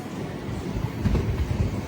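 A special passenger train on the long Kakinada to Mysore route runs steadily, with a low rolling rumble and rhythmic wheel clatter on the rails that stays moderately loud throughout.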